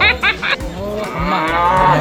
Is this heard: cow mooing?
yes